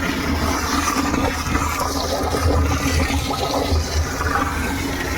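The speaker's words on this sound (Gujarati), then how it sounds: "અત્યારે પાણી ચાલુ કર્યું આમાં।" Water from a borewell motor pipe gushes into a barrel on a potato farm, a constant splashing rush with a low pumping hum underneath.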